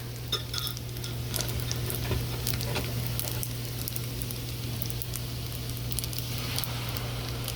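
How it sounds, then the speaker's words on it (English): Beaten eggs hit a pan of frying rice in a budget fried rice dish, giving a dense, steady crackling sizzle close by, with scattered stirring scrapes and a constant low hum underneath. "Six eggs makes about a cup of liquid, and I scrambled them up, and I'm just going to let them heat up and scramble them."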